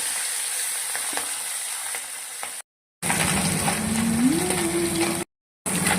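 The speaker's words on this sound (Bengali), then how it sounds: "মাছটা এবার এই হালকা তেলে সুন্দর করে ভেজে নেব।" Small puti fish fry in a little hot oil in a home kitchen, a steady close hiss and crackle with light stirring, broken by two short gaps and joined midway by a low rising tone.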